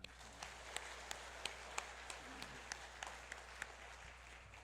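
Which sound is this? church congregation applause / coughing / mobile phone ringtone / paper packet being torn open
church congregation applause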